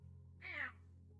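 A single drawn-out meow from Jasper, a pet cat, lasting about a third of a second, fairly close and clear over a steady low hum, with no talking.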